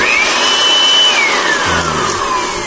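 Portable cordless air blower and vacuum running at its minimum power, a loud continuous whine with a high tone that holds and then falls away, close and without voices.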